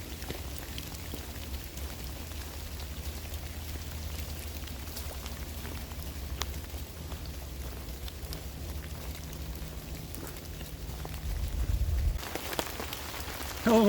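Steady rain falls on surfaces during a soggy outdoor trip to Fort Boggy, a constant close patter with scattered louder drops and a low rumble underneath, growing slightly heavier near the end.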